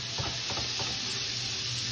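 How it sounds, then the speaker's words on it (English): Bacon sizzling in a hot skillet, a soft, steady crackling hiss with faint pops, close by and uninterrupted. "In this hot skillet, I am going to dump that bacon in there"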